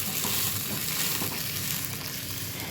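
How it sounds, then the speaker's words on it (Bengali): Radhuni spice with a splash of water sizzles in oil in a pan, making a continuous dense close hiss with faint bubbling crackle throughout and no talk. "এখন আমি এই তেলে সামান্য জল দিয়ে দিলাম, না হলে আমার মশলা পুড়ে যাবে"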